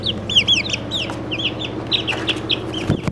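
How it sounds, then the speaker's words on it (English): Several backyard chickens cluck and chirp close by in quick, repeated calls, with a faint thump near the end. "Oh, one of my chickens just escaped."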